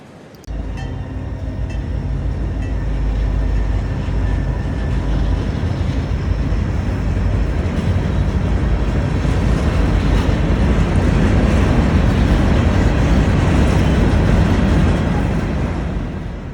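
A Florida East Coast freight train rolls past in a long, loud, steady rumble near the track, swelling and holding through the pass with no talk.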